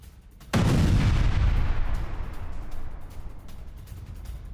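A landmine detonates in the Russia-Ukraine war, set off by an animal wandering near two Russian soldiers: one sudden, loud, close blast with a deep rumbling body that fades slowly over several seconds, with no voices.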